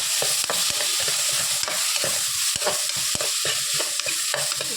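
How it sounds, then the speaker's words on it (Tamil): Onions, green chilies and tomatoes being sautéed in a pan for a brinjal potato masiyal, with steady loud sizzling throughout and repeated sharp scrapes and clacks of a spoon stirring against the pan. "வெங்காயம் வதங்கிட்டு இப்போ பச்சை மிளகா தக்காளி போடணும் நல்லா வதக்கணும்"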